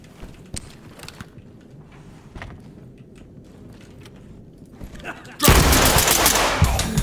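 After a quiet stretch of faint clicks and shuffling, a loud, sustained burst of rapid gunfire erupts in the tactical shooter Ready or Not during a barricaded-suspect raid on a crack house.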